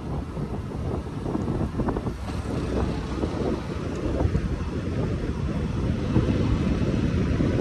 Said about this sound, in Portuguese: Ele está tendo uma vazão, que é exatamente a água que sai pelas comportas